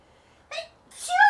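A single sneeze, close and sharp, with a short intake before the loud burst.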